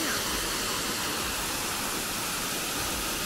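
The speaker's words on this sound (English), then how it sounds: "The Gostilje Waterfall." The Gostilje Waterfall in Zlatibor, a modest cascade, gives off a steady, fairly quiet broadband rush of falling water with no clear voices.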